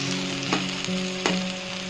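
Tomatoes fry on low heat in a pan for a prawn curry, giving a steady close sizzle with a couple of soft stirring scrapes.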